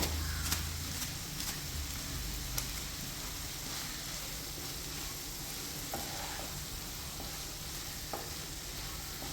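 Paneer stirred in a hot pan, a steady broadband sizzle with scraping spoon strokes and occasional sharp clinks against the metal, continuous and fairly close with no voices.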